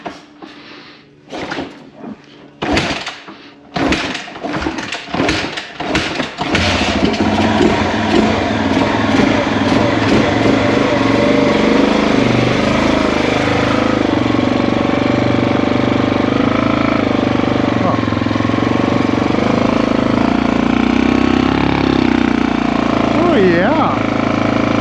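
An old Yamaha TT350 motorcycle coughs through several sputtering start attempts, then catches and settles into a loud, steady single-cylinder running note close by, revving slightly as it carries on.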